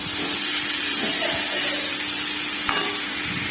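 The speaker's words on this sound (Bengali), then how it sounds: "এবার এটাকে আমি ভালো করে একটু ভেজে নেব নুন হলুদ দিয়ে।" Carrots fry in a pan with salt and turmeric, a continuous loud sizzle and hiss with occasional stirring scrapes, close up and without talk.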